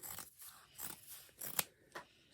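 Scissors snip across fabric for a hot water bottle cover in four or five soft, irregular cuts, close but quiet, with no talking.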